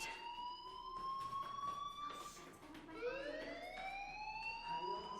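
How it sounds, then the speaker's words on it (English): In the video game Life Is Strange, a fire alarm wails with rising and falling siren tones that sweep upward, steady and moderately loud over a low background hum. "Hey, do you hear that fire alarm? That means you should be outside."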